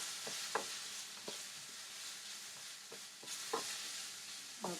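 Onion fries in a pan with a steady soft sizzle, while a utensil scrapes and stirs it in scattered light knocks, faint and nearby, with no voices.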